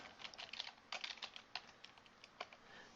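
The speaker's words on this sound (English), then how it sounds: "I'll type in containers." Quick, irregular typing on a computer keyboard while entering a CSS comment in Dreamweaver, a close run of light key clicks with brief pauses between bursts, no talking.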